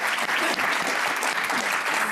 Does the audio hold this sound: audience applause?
yes